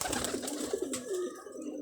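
Up close on a rooftop, a pigeon gives a low, soft cooing call that rises and falls, over faint background hiss.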